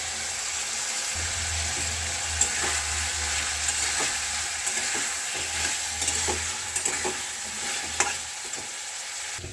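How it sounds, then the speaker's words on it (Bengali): Cauliflower and potatoes are sautéed in a pan, giving a continuous close sizzle with scattered stirring scrapes and clicks, while an intermittent low hum runs underneath and no one speaks. "এবার ফুলকপি আর আলুগুলো দিয়ে ভালোভাবে কষিয়ে নেব।"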